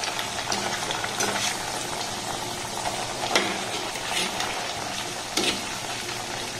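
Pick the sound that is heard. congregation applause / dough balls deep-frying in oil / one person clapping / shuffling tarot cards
dough balls deep-frying in oil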